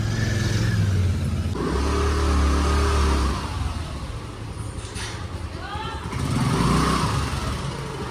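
A small scooter, heavily overloaded, rides along an Indian city road, its engine droning steadily with rises in level and passing traffic noise around it, while a person talks over the ride.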